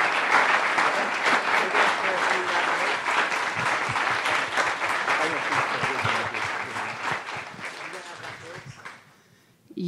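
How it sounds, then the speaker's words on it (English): A young adult community event audience applauds the panel speakers: sustained, dense clapping that fills the room at steady loudness for most of the stretch, then fades out near the end. "If we can just give a round of applause to Bishop and Dr. Timoney and Juan."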